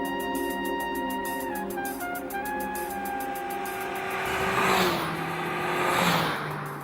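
Mini Clubman carrying its maximum permitted load accelerating from 80 km/h, engine pitch climbing through gear changes with drops between, swelling into whooshing rushes of wind toward the end.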